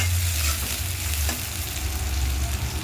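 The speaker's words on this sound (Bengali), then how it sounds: "পেঁয়াজটা একটু ভেজে নেব।" Chopped onion fries in a pan with a constant near sizzle over a low hum, plus one brief clink partway through; nobody speaks.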